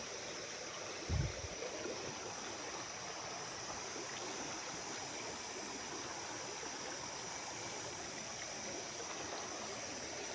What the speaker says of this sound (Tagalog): Sa gilid ng sapa tol. Ayan po, tumunog po yung tubig.